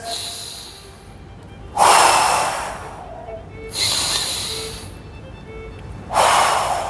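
Three slow, deep breaths are taken during a lying back stretch, each a loud, close, airy breath lasting about a second and a half, evenly spaced across a quiet background.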